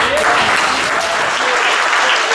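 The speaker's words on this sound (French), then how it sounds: "On applaudit Jésus." A church congregation applauds loudly and continuously at a Sunday service, with dense, close clapping filling the whole stretch.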